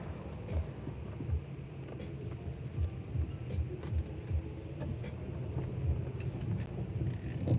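A manual-transmission car pulls away and drives toward a highway, its low engine rumble steady and close with bursts of wind buffeting the microphone.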